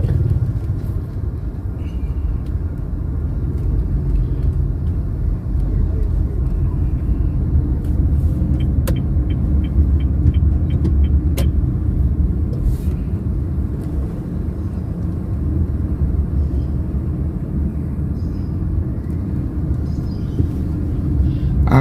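Heavy, congested road traffic fills a street in Makassar with a dense, continuous low rumble of engines, steady and loud throughout, with faint brief clicks and taps heard over it.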